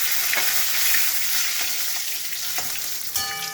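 Bay leaf and cumin seeds frying in oil over a low gas flame, a steady crackling sizzle broken by occasional scrapes of stirring and a light metallic tap near the end.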